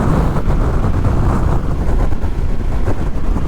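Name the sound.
wind noise while riding a Honda NC750XA motorcycle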